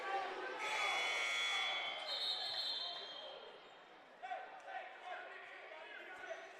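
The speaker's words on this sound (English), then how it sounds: "Now the hometown scorekeeper with a buzzer again" A scorekeeper's buzzer horn blares during a timeout at a high school varsity basketball game, a loud sustained tone held for a couple of seconds, then fading into gym crowd noise and commentators talking.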